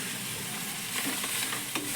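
Washed gori greens hit a hot pan with tempering and sizzle steadily, a close, continuous hiss with faint stirring scrapes.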